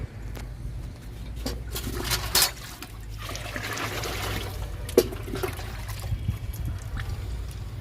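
NPK nutrient liquid poured onto three drumstick plants in a home garden, a steady trickling, dribbling stream of liquid running continuously with a brief scrape or knock partway through.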